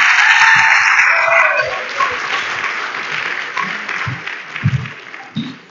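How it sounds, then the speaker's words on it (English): An audience gives a round of applause after a performance by young people, with full, loud clapping at the start that gradually thins into scattered claps and a few audible voices toward the end. "Let's get another round of applause"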